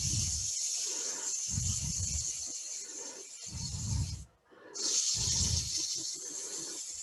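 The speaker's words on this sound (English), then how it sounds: "I'm going to go ahead and get quick sanding" A wooden pepper mill is sanded on a lathe turning at low speed, producing a steady high hiss with repeated rhythmic rasping sweeps as the paper moves back and forth, close and fairly quiet, with one brief pause.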